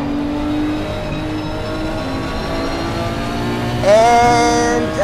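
A race car in Assetto Corsa Competizione runs at steady, loud engine pitch, then brakes and downshifts into third. The revs jump and climb sharply as it accelerates hard out of the corner.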